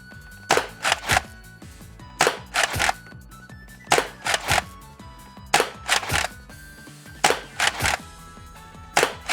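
An upgraded X-Shot Pro Longshot foam dart blaster fires repeatedly at targets: sharp, loud pops in quick pairs and triplets, each followed by a short mechanical rattle, repeating at regular intervals close by without talk.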